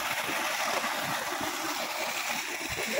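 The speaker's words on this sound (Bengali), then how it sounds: "দেখো সোলার সিস্টেমের সাহায্যে এই জল জমিতে যাচ্ছে ধান খেতে" Water from a solar-powered pump gushes into a paddy field in a steady, loud, close rushing wash that holds constant without pause.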